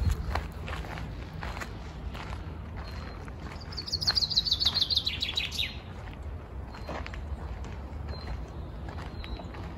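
Small birds chirp and trill in trees along a quiet forest trail in Greece, a brief bright burst of song midway over steady footsteps on the path, fairly faint and some distance off.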